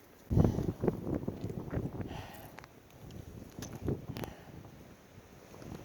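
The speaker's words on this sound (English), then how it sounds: "Yep, that's wind." Wind gusts on an Appalachian Trail hike near Massie Gap buffet the microphone in uneven, rumbling bursts, close and moderately loud, with no talk.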